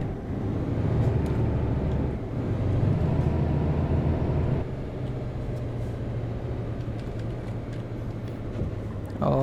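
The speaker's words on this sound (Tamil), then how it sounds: "இன்ஜின் பிரேக் தான் போடுறேன்," A heavy truck engine in Euro Truck Simulator 2 drones steadily with a low, throaty rumble that shifts pitch partway through under engine braking, under faint background noise.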